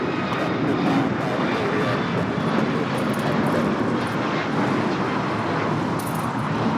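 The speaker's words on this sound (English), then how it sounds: "This is American Airlines 2284 taking off to Miami on the MAX 8" An American Airlines Boeing 737 MAX 8 takes off from Los Angeles airport with a sustained, loud jet engine roar that holds steady throughout and stays fairly close, with no talk over it.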